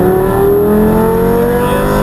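A Lamborghini accelerating on a track under throttle, driven by a 13-year-old: a loud, close, steady engine roar whose harmonic whine climbs in pitch as the revs rise.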